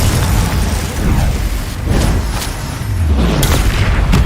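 Confringo spells explode in the Hogwarts Legacy video game, a series of loud, deep booms and bursts that roll into one another with crackling debris, continuous and close.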